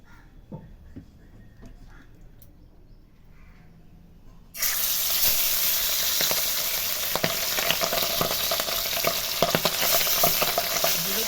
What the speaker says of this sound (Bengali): এবার আমি মাছগুলোকে এক এক করে কড়াইয়ে ছেড়ে দেব